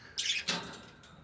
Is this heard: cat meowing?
no